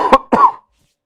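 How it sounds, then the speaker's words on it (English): Two muffled coughs in quick succession, dulled by hands cupped over the microphone, followed by silence. "I'm covering the mic with both hands when I cough"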